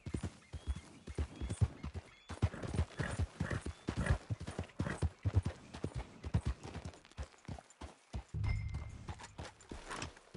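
Horse hooves clip-clop in a quick, steady rhythm while riding in Red Dead Redemption 2, moderately loud and close, with a brief low rumble near the end.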